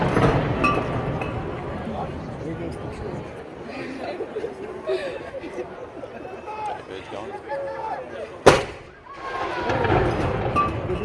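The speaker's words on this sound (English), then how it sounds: "We're just up awaiting the gun salute to go off" The single sharp boom of a cannon firing a gun salute at a castle, where the 15th-century cannon Mons Meg stands, cuts through a chattering, laughing crowd and dies away quickly as the talk resumes.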